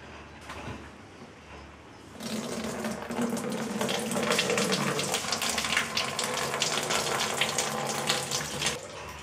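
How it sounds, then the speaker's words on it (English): Wort for a homebrewed red ale pours into a clean, sanitized fermenter: after a quiet start, a steady, close rushing splash of liquid runs without a break, with no talking. "Now I'm going to transfer the wort into the sanitized and clean fermenter."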